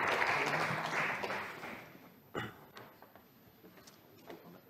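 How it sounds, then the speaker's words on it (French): An audience applauds in a room, a moderate burst of clapping that fades after about two seconds, followed by a sharp knock and scattered quieter rustles and taps. "Nous pouvons l'applaudir."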